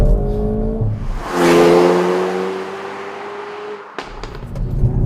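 Hyundai i30 N hot hatchback engine in N mode revs hard, rising in a loud, sustained swell that holds steady and then cuts off, followed by a few sharp pops and crackles.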